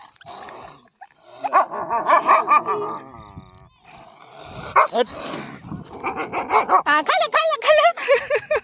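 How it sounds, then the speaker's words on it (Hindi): A dog barks loudly and repeatedly in bursts, some yips and growling mixed in, close by, while people talk and call out over it. "ये कुत्ता यार इतना भौंक रहा था"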